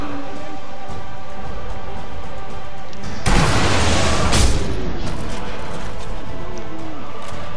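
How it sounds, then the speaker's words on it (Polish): A single sharp, booming sniper rifle shot in Sniper Elite V2 rings out with a long rolling tail, loud against a steady game backdrop. "Jeden strzał, jeden kill."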